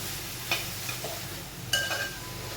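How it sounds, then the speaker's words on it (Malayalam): Soya chunks coated in masala are stirred in a hot frying pan, with a steady low sizzle and two sharper spoon scrapes against the pan, heard close up with no talking. "നന്നായിട്ട് ഇളക്കി കൊടുക്കണം നമ്മുടെ ഈ മസാല ഇതിൽ പിടിക്കണം"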